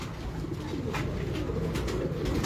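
Pigeon cooing softly a few times amid steady outdoor background noise, faint and somewhat distant.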